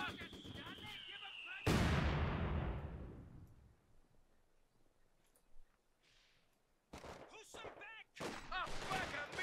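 Gunfire and explosions from a Vickers machine gun position in Company of Heroes 2, with a loud blast followed by bursts of rapid firing and distant battle noise, mixed with game sounds.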